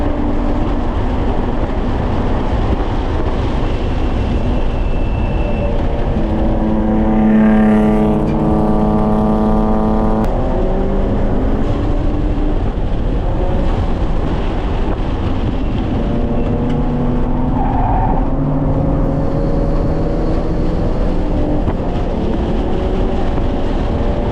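Race cars, including a GR86, accelerating together during a practice race start, loud engine roar with rising and falling harmonic revs as cars pull away, steady and close without talk.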